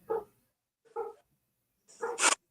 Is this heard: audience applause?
no